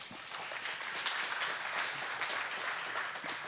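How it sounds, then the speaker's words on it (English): An audience applauds steadily and dense at a moderate distance, a continuous wash of many hands clapping for a departing pair at a gathering, holding level throughout. "Give them a round of applause."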